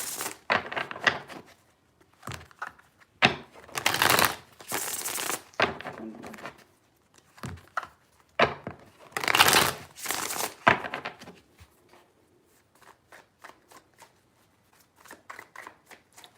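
A deck of tarot cards is shuffled in several bursts of rapid riffling and flapping, close and crisp, with quiet gaps between the bursts.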